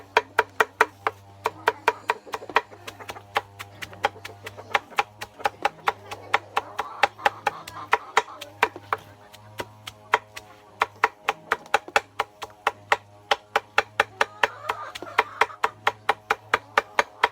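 Banana being chopped for pig feed on a farm, a steady run of sharp, evenly spaced knife strikes against a board, close and loud, with a low hum underneath.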